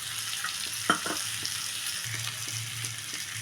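Fish frying in oil in a pan gives a steady close sizzle with faint crackles and a small clink, no talk.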